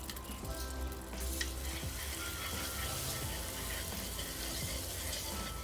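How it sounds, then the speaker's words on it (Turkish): A spoonful of butter melts into caramelized sugar while being stirred for a trileçe dessert, with a continuous close sizzle and bubbling under light scraping strokes. "Şekerimiz eridikten sonra içine 1 yemek kaşığı tereyağını ekliyoruz. Tereyağı eriyene kadar karıştıralım."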